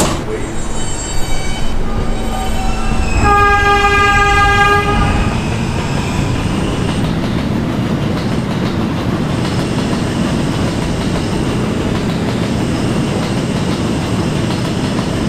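A New York City subway R train runs at night, with a steady rumble and clatter of cars on track, a bright tonal horn-like whine rising briefly early on, then continuous loud rolling noise.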